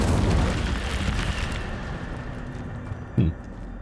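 The Incendio fire spell in Hogwarts Legacy gives a broad, roaring blast that fades into a rumbling wash, followed by a short, sharp burst near the end.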